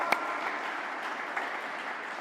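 A congregation claps steadily for a father at a church service, a moderate, even wash of applause with one sharp clap near the start.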